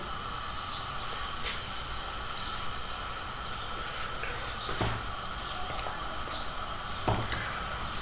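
Papdi dough pieces frying in medium-hot oil, a steady, continuous hiss and sizzle of bubbling oil with occasional sharper crackles and pops, close and alone.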